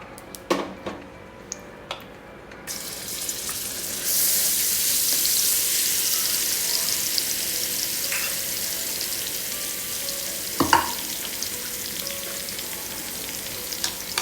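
Garlic pods and green chilies frying in two spoons of oil, a continuous sizzle that swells after a few sharp clinks at the start, with occasional pan knocks.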